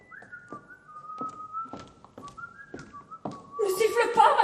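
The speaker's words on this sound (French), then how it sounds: "Ne siffle pas, machin." A person whistles a wavering, sliding melody in short phrases, with brief thumps between notes and a louder burst of noise at the end.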